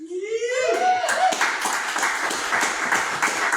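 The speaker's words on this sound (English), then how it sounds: "Another round of applause for Brendan from Long Island" Audience applause for a performer at a live music set, a burst of dense clapping rising quickly and holding steady for a few seconds, close and lively.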